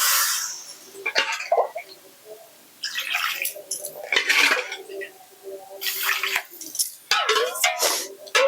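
Water is poured into a curry cooking in a pan for an Odia chickpea-dal bara curry, heard as several close, splashy bursts separated by short quiet gaps.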